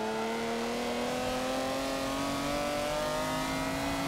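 A BMW-powered McLaren F1 race car in the Forza Motorsport 7 racing game holds a loud, sustained engine drone whose pitch climbs gradually, with no pauses and no voices.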